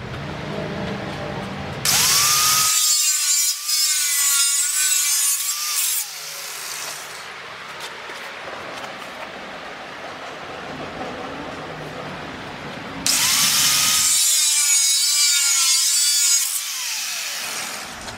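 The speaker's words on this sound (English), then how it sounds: "After we cut it with the grinder, we're gonna use a buffer, smooth it out" An angle grinder cuts through a metal picket in two long, loud, whining passes, separated by a quieter stretch of clatter and handling.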